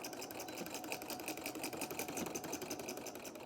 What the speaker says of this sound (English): So now I'm just going to lower my presser foot down. I'm going to stitch forward and reverse.